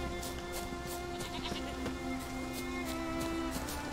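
Sheep and rams bleating in The Witcher 3: Wild Hunt, several wavering bleats over a quiet, steady game ambience, moderately close and without talk.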